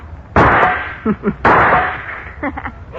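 A rifle fired at tin cans, with two sharp, loud shots about a second apart, each followed by brief clattering and ringing sounds of hit cans, with no talking.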